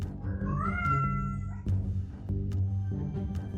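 A cat named Vega meows several times at close range, drawn-out rising cries against a steady low background hum.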